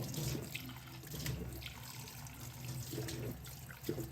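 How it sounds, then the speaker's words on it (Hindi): Cold tap water running and splashing over a freshly boiled egg in a kitchen sink, a steady faucet wash with soft splatter throughout, fairly quiet and close. "अब इसके अंदर हम थोड़ा ठंडा पानी डालेंगे ताकि ये"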